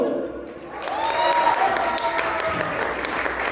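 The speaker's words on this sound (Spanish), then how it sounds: "A ver, aplausos para número uno." An audience applauds a contestant at a youth mariachi dance event, a broad wash of clapping that swells in after a brief quieter start and holds steady, with a voice and tonal music partly mixed in beneath.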